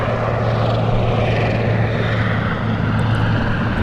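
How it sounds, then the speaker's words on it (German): A helicopter drones steadily in the Hitman video game at a landing platform, a continuous low rotor hum at moderate loudness with no voices. "Ein Helikopter, der uns hier hingebracht hat auf einer Landplattform"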